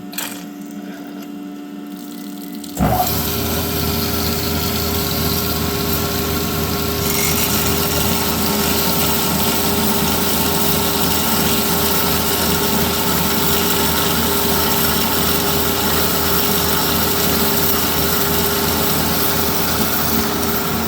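A dual column bandsaw cutting material, switched on after a few quiet seconds and then running steadily with a loud, continuous whine and buzz that holds unchanged to the end, with no voices.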